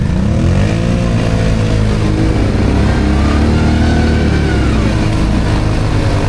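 A quad bike running in rear-wheel drive, with the front drive only just engaged, roars close and loud without a break, its engine note rising and falling steadily while it drives along.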